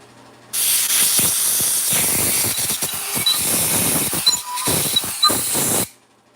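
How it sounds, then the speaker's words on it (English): Compressed air blasts out of a nozzle to clear debris from an engine, a loud, close, steady hiss that starts abruptly, wavers with short pulses and clanks, then cuts off. "You want to blow all that crap out"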